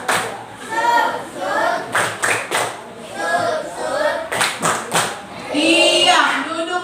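Schoolchildren in a classroom clap their hands in several short bursts of rhythmic claps between stretches of a teacher's voice and children chanting.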